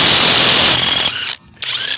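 A Seesii WH710 impact gun works a rusted lug nut, giving a loud, continuous hammering whir for over a second. It cuts out for a brief pause, then starts up again close by.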